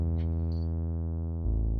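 A basic sine-wave tone from an Elektron Tonverk synthesizer, passed through a low-pass filter with no effects, holds steady and loud, then shifts abruptly to a lower pitch near the end.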